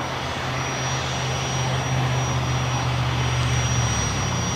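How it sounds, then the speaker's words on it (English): A FlexJet Embraer Legacy 450 business jet at Los Angeles airport gives off a steady, moderately loud engine whine and rumble with a sustained high tone, constant throughout. "This is FlexJet Flight 413 coming from San Jose, California. It's an Embraer Legacy 450."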